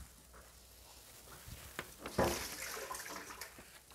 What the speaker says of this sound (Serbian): Ja ću ipak izliti tu vodu.